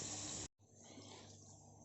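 Running tap water splashes while raw chicken pieces are washed, a steady stream that cuts off briefly and then resumes more softly, with no talking.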